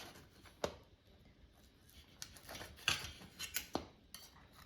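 A knife and fork cut a small piece of air-fried Totino's party pizza, giving faint scattered clinks and scrapes of cutlery against a plate in a quiet room.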